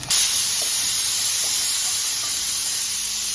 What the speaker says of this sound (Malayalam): ഇതിലേക്ക് ചെറുതായിട്ട് അരിഞ്ഞ ഒരു തക്കാളി ഞാൻ ഇട്ട് കൊടുക്കുന്നു